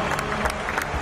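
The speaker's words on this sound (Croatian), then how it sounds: "Hvala i još jedan najveći aplauz za predsjednika Narodne Republike Kine." A crowd at a public welcoming ceremony in Serbia for the Chinese president applauds steadily, a dense wash of clapping heard from a moderate distance.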